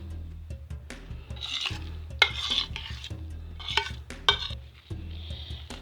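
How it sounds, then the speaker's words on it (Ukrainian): Minced meat being mixed with rice by hand in a bowl, a close, continuous soft squelching and stirring with a few sharper knocks against the dish, and no talk. "Стуляємо тепер фарш до кучі, посипаємо рис."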